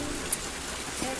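Steady rain falls across an open field with trees and a fair wind, a soft, even hiss with one or two faint drop ticks and no voices.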